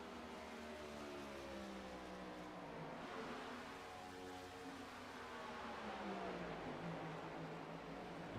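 Race car engine in a stock-car racing video game at Texas Motor Speedway, a steady droning whine with slowly rising and falling pitch, heard faintly and continuously with no talk.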